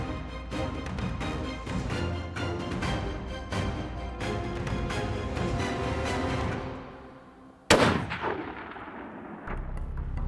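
Loud rifle shots crack out in the open during a West Texas aoudad hunt, with a dense run of sharp reports followed by one distinct, powerful shot near the end and then echoing quiet.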